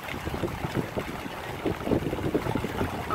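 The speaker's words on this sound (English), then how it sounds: "We have, listen to it," A July thunderstorm arriving outdoors gives a steady, fairly loud rushing of wind and rain, without pauses.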